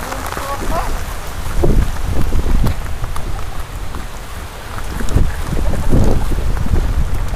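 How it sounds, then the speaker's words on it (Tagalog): Heavy rain with big drops pours down outdoors in a steady, loud wash with gusts of wind noise buffeting the microphone, while people speak quietly under it. "Yan na naman ang ulan."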